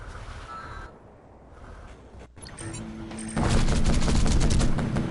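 Units exploding in the Field Commander strategy video game: a sustained crackling burst of blasts that swells loud in the second half after quieter rumbling, with no talk.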